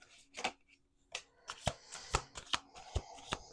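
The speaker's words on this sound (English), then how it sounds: "We're going to do 2 more shuffles." Playing cards being shuffled at a table, a series of sharp riffling bursts and snaps, about eight distinct crisp hits in close succession, near and fairly quiet with brief pauses between them.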